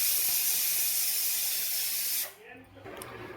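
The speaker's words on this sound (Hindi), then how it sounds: "ये थोड़े से बर्तन थे जो मैंने साथ के साथ धो दिए हैं" Dishes being washed under a running kitchen tap in a home, a steady loud hiss of flowing water that cuts off abruptly, followed by quieter clinks and faint movement.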